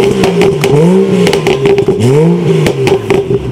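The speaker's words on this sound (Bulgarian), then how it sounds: "И тук трябва да правим пум-пум-пум-пум-пум." A BMW 435i xDrive with the N55 engine revving up and down twice close by, with sharp crackling exhaust pops scattered through the rise and fall.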